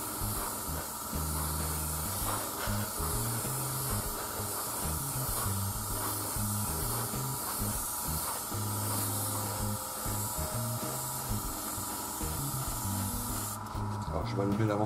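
An airbrush or spray can hissing metallic paint onto a plastic F-86 Sabre scale model, a steady soft spray under someone speaking French quietly close by.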